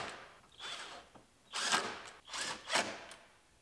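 A power tool runs bolts in across the top of a bumper being reinstalled on a 2016 GMC Terrain Denali, giving three short whirring bursts with a ratcheting edge, close and moderately loud, separated by quieter handling noise.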